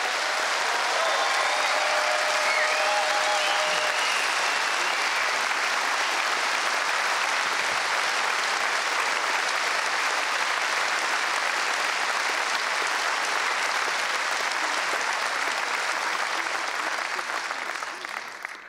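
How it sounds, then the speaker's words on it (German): Sustained applause fills a hall at an evening expert-talk event, a long, even roar of many hands clapping that holds steady before tapering slightly at the very end. "das ist einen Applaus wert"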